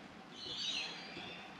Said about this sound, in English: Hello, little bird. What are you doing in my workshop?